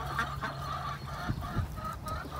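A duck kept among chickens keeps quacking in short nasal honks, several calls close together over a steady low farmyard background.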